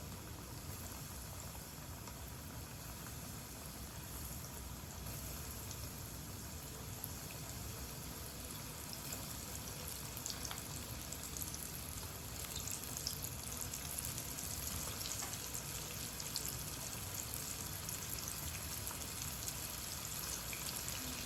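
Battered shrimp frying in hot oil for a Southern-style seafood recipe, a steady, faint bubbling sizzle that holds evenly throughout with no talking.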